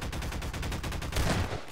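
Rapid automatic gunfire in Garry's Mod during a horror prison map, a steady burst of closely spaced shots running loud and continuous for the whole stretch.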